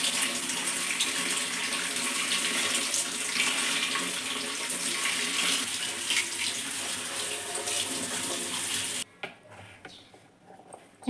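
Leafy vegetable greens rinsed under a steady stream of running tap water in a kitchen sink, a continuous close splashing rush that cuts off abruptly near the end, leaving faint quiet handling.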